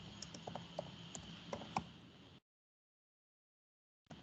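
Typing on a computer keyboard, heard as quick, irregular light clicks over a steady hum for about two seconds, then a cutoff into silence before a brief return at the end.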